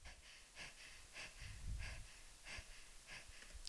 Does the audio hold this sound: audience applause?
no